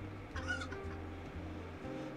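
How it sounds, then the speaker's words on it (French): A chicken clucks in the renovation video game Hotel Renovator, with repeated low, evenly spaced clucks over a faint game background and no speech. "ça doit encore être cette satanée poule"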